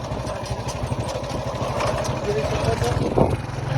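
A motorcycle, ridden by a beginner still learning, putters close by with a steady, throbbing engine rumble while people talk over it.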